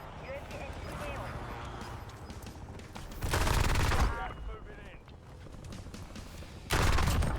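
SMG gunfire in the Warzone video game, two loud sustained automatic bursts amid quieter game noise and scattered distant shots, with a voice talking over it.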